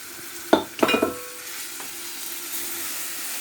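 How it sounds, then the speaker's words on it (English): Chopped onions are stirred in a vegetable stew, with two scraping stir strokes near the start over a faint, steady sizzle that continues to the end. "So you stir and keep watch on them so they don't get burned."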